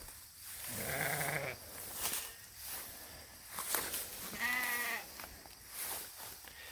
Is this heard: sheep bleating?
yes